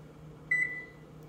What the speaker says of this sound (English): I'm going to set my timer for an hour